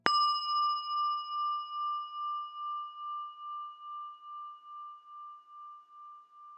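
A single bell strike rings out clearly, then a pure, pulsing tone lingers and slowly decays over several seconds in otherwise quiet surroundings.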